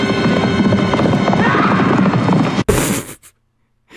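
Black Riders' horses in an animated fantasy film neigh and whinny loudly with galloping hoofbeats close up, then cut off abruptly to near silence.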